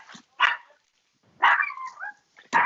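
A small dog barks close by, giving sharp yappy barks with one drawn-out whiny yelp, spaced by short silences.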